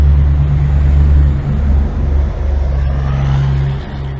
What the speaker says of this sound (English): downtown Concordia is very noisy. Lots of trucks.